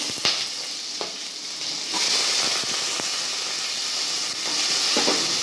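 Onions frying in hot oil alongside fennel seeds, cinnamon and cloves for a vegetable kurma, a continuous loud hissing sizzle that swells midway, with a few soft utensil taps near the pan.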